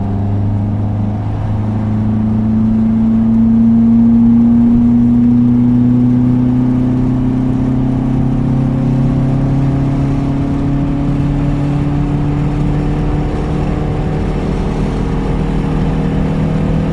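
Car engine pulling in 5th gear at around 90 km/h, just under 3,000 RPM, on a twisty road, its steady drone rising gently in pitch as it accelerates, loud and continuous with road noise and no talk.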